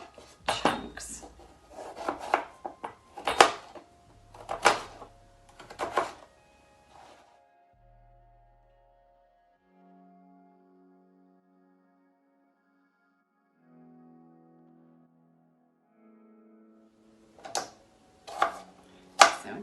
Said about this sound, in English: So I'm just finishing chopping this pumpkin up into chunks